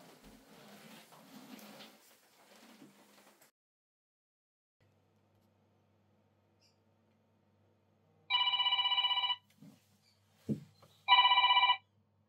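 A telephone rings in two separate bursts within a quiet indoor scene of a short horror film, each bright electronic trill clear and fairly loud after a long hush and some faint earlier sounds.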